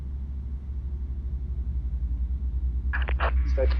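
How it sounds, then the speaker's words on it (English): Airbus A330-900neo engine spinning up in Microsoft Flight Simulator, a steady low rumble that gradually swells and pulses, with brief speech breaking in near the end. "Got engine spin. That's always good."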